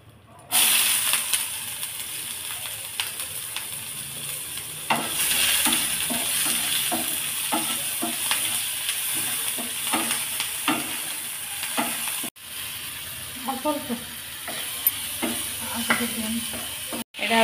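Vekti (bhetki) fish in a mustard masala sizzles and hisses steadily in a hot pan, with frequent spatula scrapes and stirring clicks throughout and a brief cut near the end; no one speaks.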